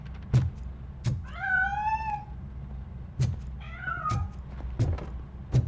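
A cat in RoboCop Rogue City, hiding inside a piano, lets out two drawn-out, wavering meows, close and clear, between sharp knocks and thuds.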